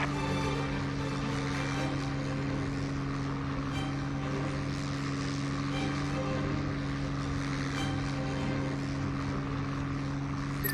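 Steady, droning propeller-aircraft engine from the IL-2 Sturmovik flight game on Xbox 360, a constant tonal hum held at even loudness throughout with no pauses.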